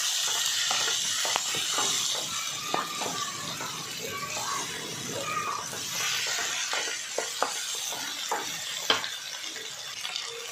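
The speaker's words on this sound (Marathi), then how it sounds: "आता यामध्ये स्वीटकॉर्न घालायचे आहेत. छान परतायचं आहे." Sweet corn sautéing in a hot pan for a Marathi-style sweetcorn usal, a steady sizzling hiss with scattered clicks and taps of a spoon stirring, close and even.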